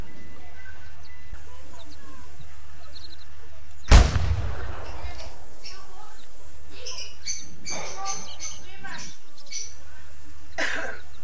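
A single loud rifle shot rings out in The Hunter hunting video game at Logger's Point, a sharp blast with a decaying tail, followed by faint ambient birdsong in the open outdoors.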